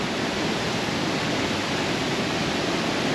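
Tegenungan Waterfall in Bali, a constant broad roar of falling water heard close and loud, steady throughout with no voices over it.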